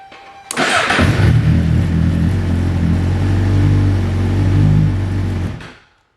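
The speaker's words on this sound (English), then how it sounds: "go ahead and start up your bike" A motorcycle engine starts up after its battery has been recharged to fix a no-start problem. It catches quickly, then holds a loud, steady, close idle hum for about five seconds before cutting off abruptly.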